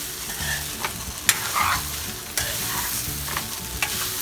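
Flattened rice upma being stirred in a frying pan, a spoon scraping and turning the poha through a steady sizzle, with occasional sharp knocks against the pan, close and alone.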